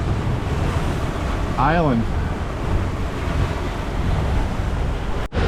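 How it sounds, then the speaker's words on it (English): Wind and water roar steadily around a boat crossing rough waves on Lake Huron's North Channel. A brief voice speaks midway, and a sharp thump near the end marks a hull striking a wave. "Continued splashing, pounding, diving into waves."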